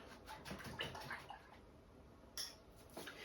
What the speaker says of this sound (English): Okay, I'm going to rinse this brush out.